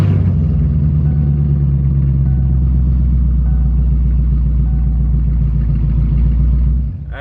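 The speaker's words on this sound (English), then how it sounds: "turn the car on." A Chevrolet Camaro SS engine idles steadily with a low, even rumble, running continuously nearby before tapering off slightly at the very end.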